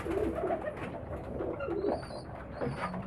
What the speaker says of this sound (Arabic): اهو دي حمامة كانت بتستعد للتزاوج